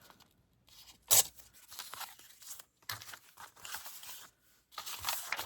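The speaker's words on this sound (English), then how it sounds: "I'm just going to rip these up here." Watercolour paper being torn by hand into small scraps for tags, several short ripping bursts close up with quiet pauses between them and one sharp loud tear near the start.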